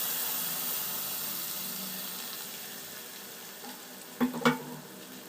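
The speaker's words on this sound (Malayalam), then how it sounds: "ഇനി ലോ ഫ്ലെയിമിൽ തന്നെ ഇത് നല്ലതുപോലെ ഒന്ന് മിക്സ് ചെയ്ത് കൊടുക്കാം." Jackfruit seed masala curry gently sizzling and simmering in a pan on low flame, a soft continuous hiss close by, then a couple of brief spoon clinks as it is stirred near the end; no talking.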